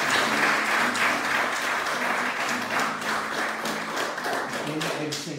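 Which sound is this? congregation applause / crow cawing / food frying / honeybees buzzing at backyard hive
congregation applause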